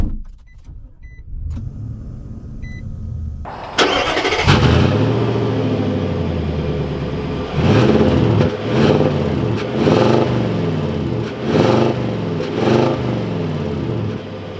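A 2021 Nissan Titan Pro-4X pickup truck starts with a brief crank, then its engine idles and revs through repeated pulls as the truck drives off, loud and close from inside the cab with no talking.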